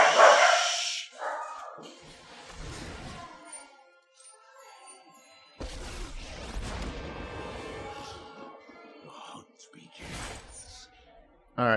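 Dogs bark as a sound effect in the MTG Arena digital card game, with several yips and barks scattered across the stretch, mixed with game effects and a voice talking.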